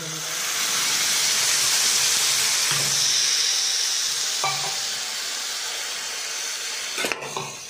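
Raw bhagar (barnyard millet) is dry-roasted in a pan with salt, chili and peanuts, giving a steady hiss broken by a few soft knocks of stirring.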